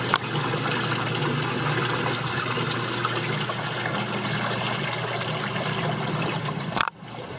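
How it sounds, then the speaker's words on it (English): Water flowing steadily through a reestablished aquarium overflow siphon after a valve is reopened, a continuous close trickling rush that holds level before a brief dip near the end. "Now I've opened up the valve back up. The siphon is reestablished, and things will equalize in a minute."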